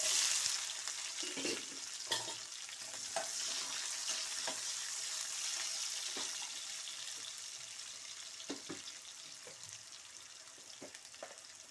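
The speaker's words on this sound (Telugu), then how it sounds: "ఆ నూనెలో మనం ఇప్పుడు అదే ఆయిల్లో జీలకర్ర, ఆవాలు," Onions, cumin and mustard seeds sizzling in hot oil in a pan, a steady close frying hiss with scattered crackles and pops and occasional stirring sounds throughout.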